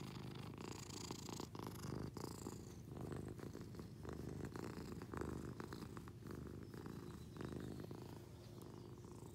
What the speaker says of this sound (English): Such purrs.